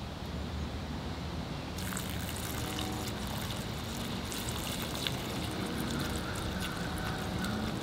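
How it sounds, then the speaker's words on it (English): Water drains out of a container of soaking cashew seeds, a steady trickling and pouring wash that starts abruptly partway through and continues evenly, close and moderately quiet. "I'll drain the water out now."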